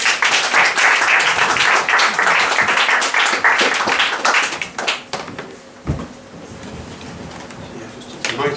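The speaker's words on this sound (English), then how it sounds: "Give a big round of applause for Mr." An audience at a magazine's 15th anniversary bash applauds a performer, a dense burst of many hands clapping that fades and thins out after a few seconds.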